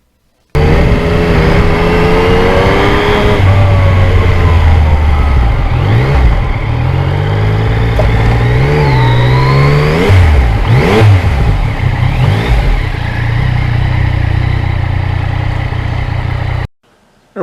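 A 2020 Yamaha MT-09 motorcycle on Michelin tyres is ridden through heavy wind. The engine drones loud and close and rises and falls in pitch, buried under constant roaring wind buffeting that fills the whole clip.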